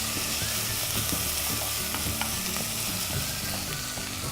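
Soy sauce hits Singapore-style rice noodles frying in a hot wok, giving a loud, steady, close sizzle with stirring scrapes throughout. No one speaks.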